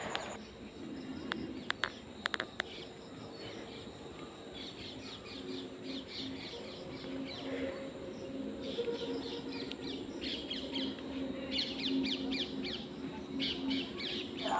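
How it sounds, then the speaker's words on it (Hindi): Repeated bright, chattering parrot calls in short bursts, moderately near, over a soft outdoor background with a few sharp knocks early on, at a Hanuman temple. "और आप सुन पा रहे होंगे कि कितना अच्छा मिठू तोता बोल रहा है।"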